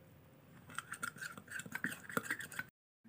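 Rice flour face pack being stirred in a small bowl, a steady run of soft scraping and light clinking taps for a couple of seconds, close and quiet, then silence.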